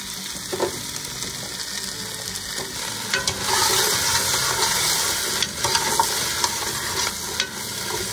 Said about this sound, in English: So now we're gonna add the butternut squash.